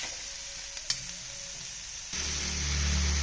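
Cumin seeds drop into hot oil for shevale with a few faint clicks, then a sudden loud, steady sizzle that swells and holds close up. There is no talking.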